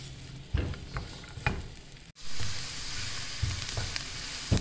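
Chopped onion sautés in a pan, a steady close sizzle broken by scraping stir strokes, with no talking.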